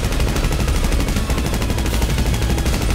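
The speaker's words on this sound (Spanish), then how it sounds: "Escuché todo disparo" Rapid, continuous bursts of gunfire in GTA 5, loud and dense like automatic weapons, with no pauses across the whole stretch.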